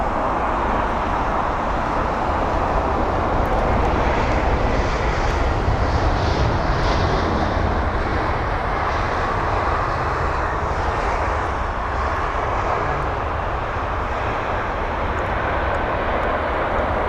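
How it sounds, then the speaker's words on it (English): A LOT Polish Airlines Boeing 737 MAX 8 pushes back at London Heathrow, its jet engines giving a steady, loud broadband roar and whine that holds without a break. "And so there is the Lot Polish Airlines 77 MAX 8 on its pushback."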